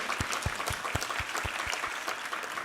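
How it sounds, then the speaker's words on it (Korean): Congregation applauding in a church during a Sunday worship service, a steady wash of many hands clapping with sharp individual claps standing out, continuous and fairly loud throughout. "우리 하나님께 감사와 영광의 박수 올려드리겠습니다"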